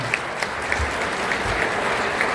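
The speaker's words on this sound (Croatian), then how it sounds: "Jedan aplauz i za našu općinu." Steady, dense audience applause at a local municipal dance event, filling the space evenly at close to moderate distance with scattered sharper claps standing out, no voices over it.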